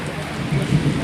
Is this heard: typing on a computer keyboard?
no